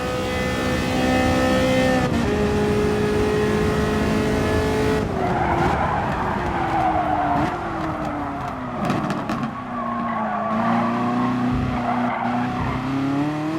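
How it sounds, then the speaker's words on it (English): A Ferrari race car in Gran Turismo Sport at Fuji screams loudly through its gears, high engine tones shifting and dropping, with tire squeal and skidding layered over the continuous roar. "Just listen to this car."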